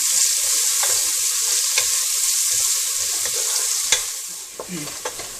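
Onions fry in a pan with a little salt for a Mangalorean chicken curry, giving a constant close sizzle punctuated by occasional light stirring taps.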